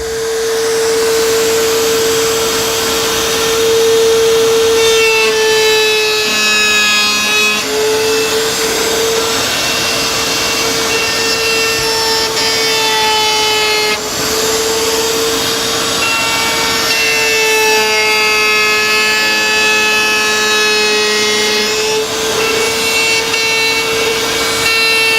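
A router with a bearing bit trims plywood for a zero-clearance table saw insert, making a loud, sustained high-pitched whine with a steady cutting roar whose pitch dips briefly as the bit bites, close and continuous with no speech.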